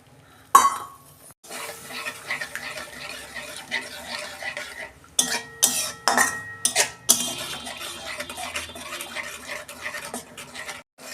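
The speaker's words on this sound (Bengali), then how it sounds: "মশলার সাথে ভালো করে কষে নিচ্ছি যাতে তেলটা ছেড়ে যায়" Bhola fish being stir-fried with spices in oil in a pan, a steady scraping stir with clinks of a spatula against the pot and bursts of sizzling, close and moderately loud, with no talking.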